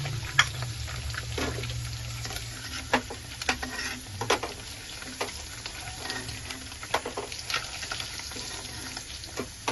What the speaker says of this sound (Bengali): সব আন্ডাগুলো ভালো করে ফ্রাই হয়ে গিয়েছে